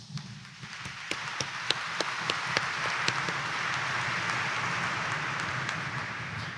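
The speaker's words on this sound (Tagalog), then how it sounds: "Ang nananalig kay Jesus Nazareno, pumalakpak ng malakas." Congregation applauding during a Catholic mass at Quiapo Church, scattered claps building into a soft, steady wash of applause heard from a distance, faint and reverberant.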